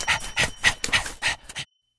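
An excited stray dog pants in quick, loud, close-up bursts, about six rhythmic breaths in a row before stopping abruptly into silence.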